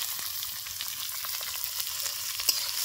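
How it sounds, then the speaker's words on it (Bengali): Chopped onion and tomato frying in hot oil, a quiet, even sizzle with light crackles and one small pop near the end. "আমরা কুচিয়ে রাখা পেঁয়াজটাও দিয়ে দেবো তেলের মধ্যে। টমেটো কেটে রাখা সেটাও দিয়ে দেবো তেলের মধ্যে।"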